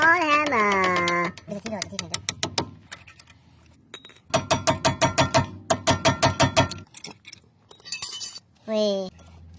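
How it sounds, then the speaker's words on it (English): Hammer blows on a Mercedes front brake during a pad change, a burst of rapid metallic strikes in an even rhythm, close and loud, with clinking and a short voice between bursts. "Too small hammer."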